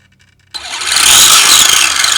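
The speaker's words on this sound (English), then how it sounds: "full throttle, brake and reverse" Small electric motor of a Monster Beetle radio-controlled car revved to full throttle, bursting in suddenly after a quiet moment and holding a loud, high whine close up.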